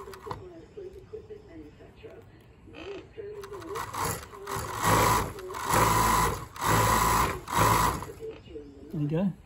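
A cover stitch sewing machine runs in several loud bursts, stitching binding onto plain fabric with no rubber, with quieter pauses and speech between the runs.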